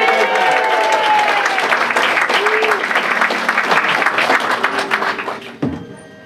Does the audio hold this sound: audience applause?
yes